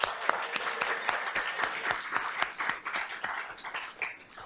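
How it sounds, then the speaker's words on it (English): Brief audience applause at a first-novel reading event, a room of people clapping with crisp individual claps near the front that thin out and fade toward the end. "Let's give Colwell a brief round of applause."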